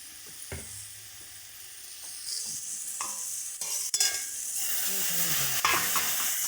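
Amra fried with chilli, turmeric, coriander and cumin powders, stirred in a pan as water is added, giving steady close sizzling with scraping spoon strokes that swell into a louder hiss of steam partway through.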